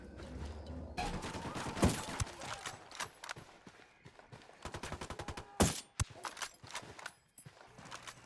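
Dense, rapid gunfire trades back and forth during a firefight in Ghost Recon: Wildlands, with sharp bursts and single loud shots stacked over a busy combat bed, some louder cracks up close and others further off.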